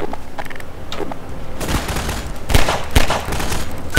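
Gunfire and barrel explosions in the Half-Life 2 video game: mechanical creaks and clicks, then several sharp, loud blasts in quick succession.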